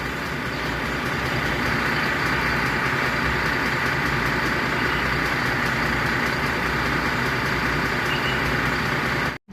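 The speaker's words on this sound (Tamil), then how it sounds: "இன்ஜின் சவுண்டு ரொம்ப ஹார்டாக இருக்குது" A heavy Volvo diesel bus engine idles loudly and steadily, a close, dense low rumble with a harsh rattling texture that holds constant before cutting off abruptly.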